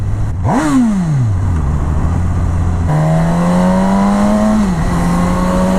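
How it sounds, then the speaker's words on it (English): A Suzuki GSX-S1000 motorcycle engine with standard exhaust revs up sharply then falls away, followed by a steady, even exhaust note humming at moderate pitch, close and continuous without talk. "Sounds quite nice for a standard exhaust as well."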